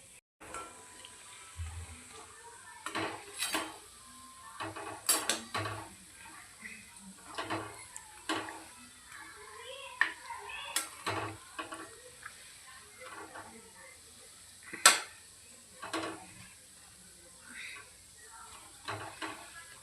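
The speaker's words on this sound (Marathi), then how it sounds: "याला एकदम बारीक गॅसवरच असे आपल्याला फ्राय करायचे" Gulab jamun (kala gulab jamun) frying in a pan on very low flame: a soft, close sizzle broken by sparse, irregular crackles and small pops throughout, with no talking.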